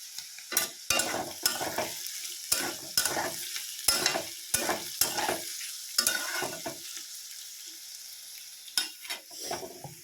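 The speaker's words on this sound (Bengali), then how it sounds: "চিকেনের এই পেঁয়াজ, ক্যাপসিকাম এগুলো ভাজা হয়ে গেছে" Onion and capsicum for a chicken dish sizzle as they fry in a pan, with repeated sharp stirring scrapes and clatters standing out over a steady hiss, near and fairly loud.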